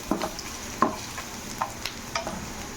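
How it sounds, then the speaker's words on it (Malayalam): Chopped ginger and garlic sautéed in a pan for dry chicken Manchurian, a soft sizzle broken by several spaced scrapes of a spatula, close and alone without voices. "ജിഞ്ചർ ചോപ്പ് ചെയ്തത്, ഗാർലി ചോപ്പ് ചെയ്തത്, ഒരു 2 മിനിറ്റ് നേരം വഴറ്റിയാൽ മതി"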